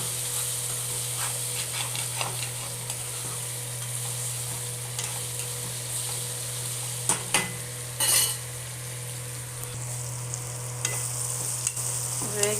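Prawns frying in oil in a pan until red, a continuous close sizzle and hiss with scattered stirring scrapes and a few louder clatters of the spoon against the pan.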